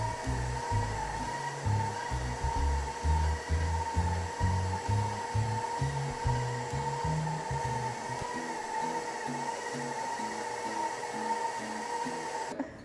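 Electric mixer beating chocolate chip cookie dough in a bowl, a steady motor whine with a low, uneven thumping churn that smooths out toward the end, moderately close and without talk.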